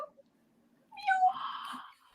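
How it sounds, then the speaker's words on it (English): A pet cat gives a short, clear meow up close in a quiet room, a single drawn-out call with a soft trailing tail, heard on its own with no talking. "What a celebrity cat."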